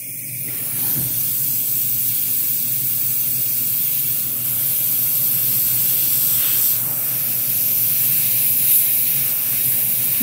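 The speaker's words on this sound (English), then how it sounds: "kind of just spray it on my hand here, see what it's doing" Paint sprays steadily from an airbrush onto a hand, a continuous close hiss lasting about ten seconds with slight swells and no talking.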